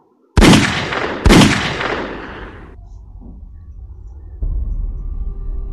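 Two loud, sharp gunshots ring out close together, each with a long ringing decay, followed by a low hum.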